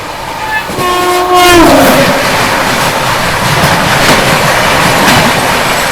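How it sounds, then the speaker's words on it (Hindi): Kanchenjunga Express from Sealdah to Sabroom passing close by, a loud horn blast followed by a continuous roaring rumble and rattle of wagons rushing past. "देखो अभी सामने से ये आ रही है कंचनजंगा एक्सप्रेस, सियालदा से सबरूम वाली"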